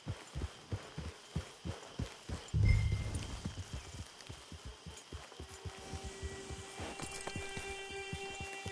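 Horse hooves clip-clopping in the video game Red Dead Redemption 2, a steady rhythmic walking gait of close, distinct hoof thuds throughout, with a brief snort or whinny partway.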